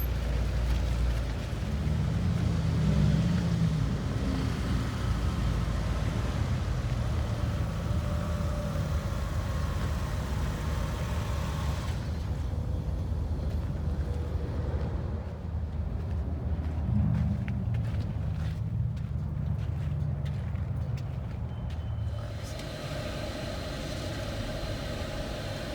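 A Jeep rolling through a parking lot at a Jeep safari vendor show, a steady low engine rumble with road and wind noise that stays constant and close throughout, with no voices.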